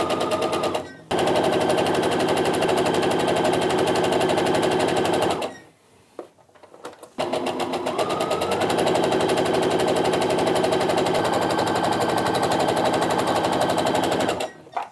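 A sewing machine stitches a curved quilt seam in a rapid, steady mechanical rhythm, loud and close. It runs in long stretches, broken by a brief pause near the middle, and talk is faintly audible.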